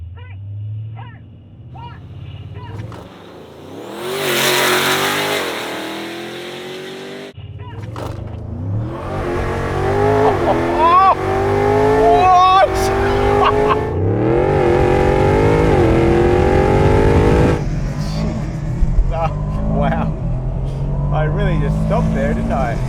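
A 1200hp twin-turbo RAM TRX and an Aston Martin DBX707 in a standing-start drag race, engines revving hard and climbing through gears, loud and close, with excited voices talking over the roar.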